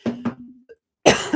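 A single close cough with a couple of rough bursts, then a brief pause and a sharper second cough at the end.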